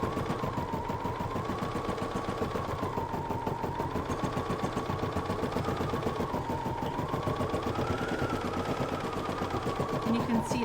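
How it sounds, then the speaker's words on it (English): An embroidery machine stitches a design directly onto stabilizer, producing a continuous rapid mechanical chatter with a steady droning whine that rises and falls slightly, close and loud with no speech over it. "I can go ahead and get this one stitching, and it's going to stitch that directly onto the stabilizer."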